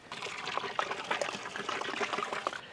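Water poured from above into a pot heating for Hyderabadi chicken biryani rice, a close, steady splashing trickle with small bubbling bursts throughout, alone and fairly soft.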